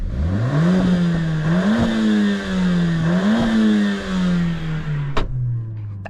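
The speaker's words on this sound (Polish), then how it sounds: "czterocylindrowy po prostu benzyniak, który sobie szumi z tyłu, troszeczkę podstrzeliwuje" A warmed-up Mercedes-AMG A45s four-cylinder petrol engine in race mode revs up and down several times close by, its pitch rising and falling in waves, followed by a sharp pop or crackle near the end.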